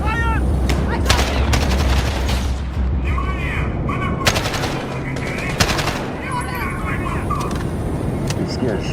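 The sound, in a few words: gunfire during cover fire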